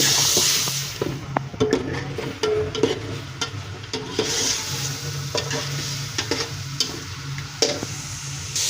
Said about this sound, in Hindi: अब हमने इसको अच्छे से भूनना है।